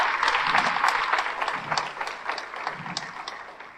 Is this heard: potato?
no